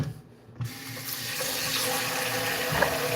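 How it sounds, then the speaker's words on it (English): Tap water pouring steadily into a pot of rice for washing in a home kitchen, a continuous close splashing rush that starts after a brief quiet moment and keeps running to the end. "Just a little bit. Add some water in there."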